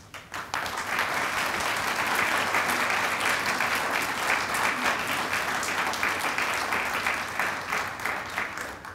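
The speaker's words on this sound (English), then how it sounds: "let's give a big round of applause for our new members." After a brief pause, loud, sustained applause swells from the audience at a Phi Theta Kappa honor society induction ceremony, greeting the new members with a full, even roar of clapping that holds for the rest of the moment.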